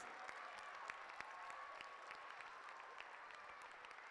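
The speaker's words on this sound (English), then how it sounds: "A big round of applause and gratitude to all of you" Parents at a school function receive a round of applause, faint and distant clapping holding steady throughout with scattered sharper claps.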